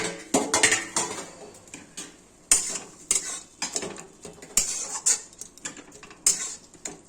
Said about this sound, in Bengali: এখন ঢাকাটা তুলে দিচ্ছি।